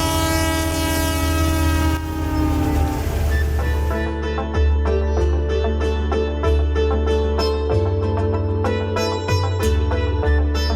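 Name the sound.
passing train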